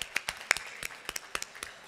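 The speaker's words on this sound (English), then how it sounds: "A round of applause for them." Scattered, light hand claps from a small audience at a panel event, applauding the musicians; a dozen or so distinct, fairly quiet claps with irregular spacing and no talking.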